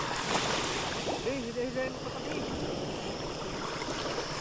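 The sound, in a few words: sea waves hitting while hauling fishing net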